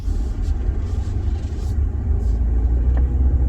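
A new car rolling forward at low speed, giving a steady, close road rumble and engine hum that runs evenly throughout.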